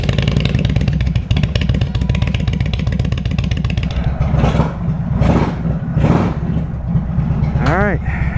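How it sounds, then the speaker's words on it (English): An Indian Super Chief motorcycle's V-twin engine, on a 2022 model just rebuilt, idles and runs steadily and loudly close by, with short revs in the middle and someone talking over it. "it's time to finally go for an official first ride on this Indian Super Chief."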